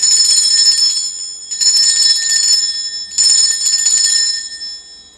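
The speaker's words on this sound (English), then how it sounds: "I'm going to be ringing this bell." A bell rung to cleanse a space gives three loud, bright metallic strikes at a steady interval, each shimmering with high ringing overtones that fade before the next strike.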